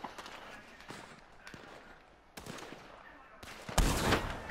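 Gunfire in Red Dead Redemption 2, scattered shots with a few sharper cracks and a louder burst near the end, set against low game ambience.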